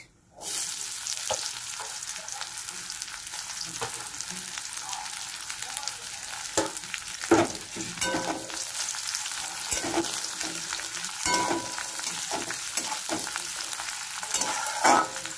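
Chopped onion sizzles loudly in a hot pan for a katla dopyaza, with a dense continuous frying hiss and frequent scraping strokes of a spatula stirring throughout.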